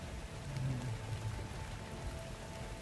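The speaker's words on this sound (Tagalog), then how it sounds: "Ulan pa." Steady rain pours down outdoors, a dense continuous hiss with a faint low rumble underneath and no voices.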